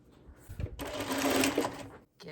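Sewing machine stitching a French seam at half an inch, a steady dense whir running for over a second after a few handling sounds, fairly close and alone.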